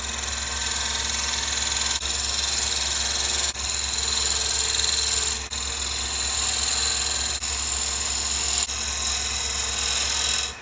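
Skew chisel working a walnut bowl on a lathe, giving a steady, loud whirring hiss with a low motor hum beneath and a few brief dips where the tool lifts off the wood. No one speaks.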